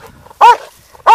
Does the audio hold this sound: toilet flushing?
no